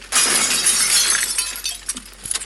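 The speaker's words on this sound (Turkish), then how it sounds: "Sıkıyorum bak ve bazuka bazuka yaşanır" A bazooka shot blasts a building apart in a demolition video game: a sudden loud crash of shattering, splintering debris that surges, then breaks into scattered clattering bits as it fades, with no voices.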